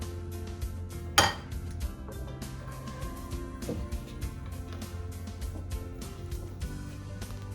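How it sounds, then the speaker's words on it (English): A large spatula folds whipped topping into strawberry pie filling, making repeated soft scrapes and light clinks against the bowl in a steady rhythm, with no talk. "I take a larger spatula and I fold it over"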